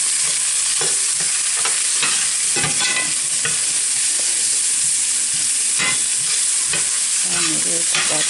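Cumin is stirred into onion and garlic frying in a pan, a steady close sizzle broken by repeated scraping stirs of the spoon.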